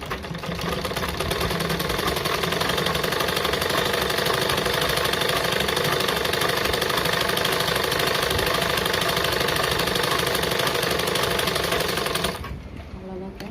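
A sewing machine stitching a blouse hook strip, running in a steady, fast mechanical whir with rhythmic needle chatter for about twelve seconds, close and loud, then stopping abruptly.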